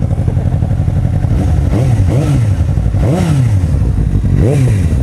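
A loud Suzuki GSX-S750 motorcycle with a slip-on exhaust revving close by, its engine pitch repeatedly climbing and dropping over a constant rumble.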